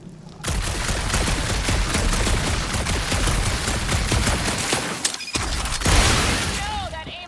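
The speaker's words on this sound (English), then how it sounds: "You know that aimless shooting isn't gonna scare the monsters away, right?" Gunfire in Guardians of the Galaxy erupts as a sustained, loud barrage of rapid shots, pausing briefly before a final burst, with debris crackling and a voice chirping near the end.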